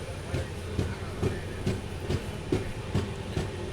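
The Yesvantpur Sindhanur Express with new LHB coaches runs near Tumakuru in drizzly weather, its wheels beating a regular clickety-clack of evenly spaced thumps over a soft steady rumble, with no talk.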